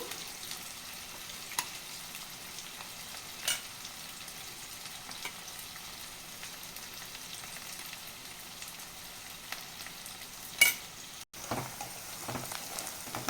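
Onions and bitter gourd fry in a pan with a steady, soft crackling sizzle, with occasional stirring clicks and one brief louder knock near the end.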